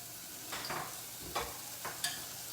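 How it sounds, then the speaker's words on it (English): A spoon stirs a sauce thickened with half a spoon of cornstarch in a home kitchen, making a few quiet scraping strokes over a low, steady background hiss. "Stir it."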